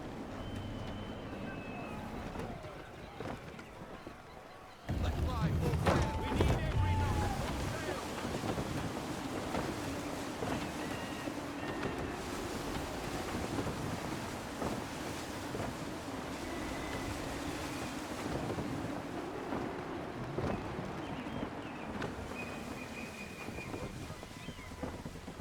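Steady gusting wind and rushing waves while sailing a ship at sea in Assassin's Creed III, a continuous broad roar with a louder surge partway through and a voice speaking over it.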